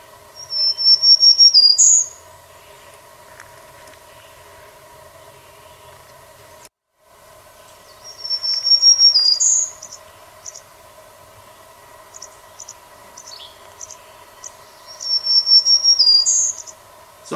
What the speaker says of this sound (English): Here is another pretty little bird, the black-throated green warbler. So let's listen to this beauty.